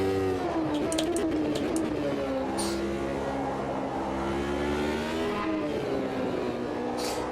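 Race car engine in the Automobilista 2 racing game, a loud steady drone with rising and falling pitch as the car accelerates and lifts through corners, with brief tyre squeals, continuous throughout with no talk.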